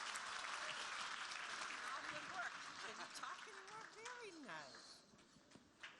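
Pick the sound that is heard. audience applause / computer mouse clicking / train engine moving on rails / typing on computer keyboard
audience applause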